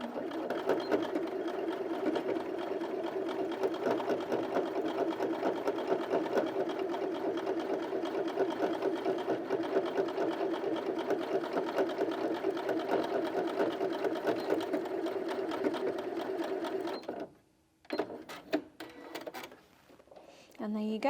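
A Janome Sewist 780DC sewing machine stitching through eight layers of fabric runs steadily for a long stretch with a strained, laboring hum, then stops; a few clunks and shuffles follow.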